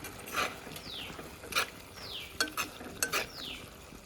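Bitter gourd and mango curry is stirred in a pan, giving quick scraping strokes and spoon clinks against the metal in an uneven rhythm over a faint bubbling sizzle, close by and without speech.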